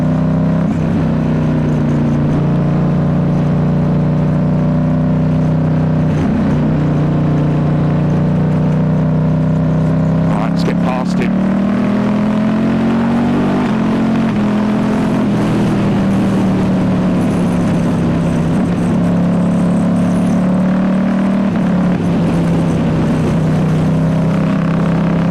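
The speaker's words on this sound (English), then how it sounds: "I love the sound of this bike." A 2019 Ducati Diavel S with a full exhaust, heard while riding: a loud, continuous engine drone that rises and falls with throttle changes, and steady wind rush underneath the whole time.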